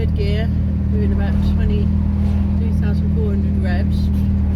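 Diesel van engine running in third gear while driving, a loud steady drone with continuous low rumble throughout, under faint voice-like tones.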